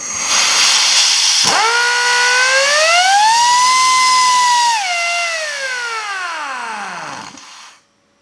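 A 3/8-inch air impact wrench run through a full trigger sweep gives a loud, steady whine that climbs in pitch, holds near the top, then falls away over about six seconds before cutting off.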